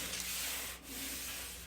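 Body filler being skimmed over hammer-and-dolly repairs on the door of a 1965 Pontiac LeMans under restoration: a steady, close, soft scraping rub with a brief dip partway through, no voices.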